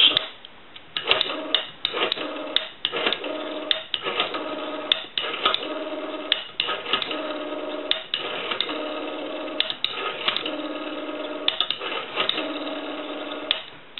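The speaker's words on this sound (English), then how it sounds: "we're going to dial our numbers" Rapid bursts of clicking pulses from a French-style rotary telephone dial repeat in short groups over a steady dial tone, with brief gaps between groups.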